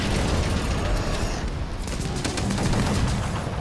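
A Wyvernsnipe shot fired from a heavy bowgun in Monster Hunter World, loud and sustained with dense crackling bursts and deep booming rumble throughout, no voices over it.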